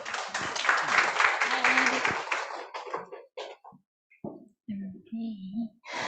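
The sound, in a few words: audience applause welcoming speaker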